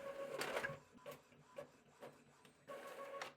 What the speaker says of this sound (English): I simply have to tap on the blue button to start printing